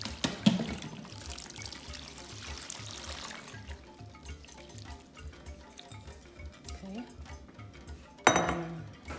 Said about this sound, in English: So now I will add water.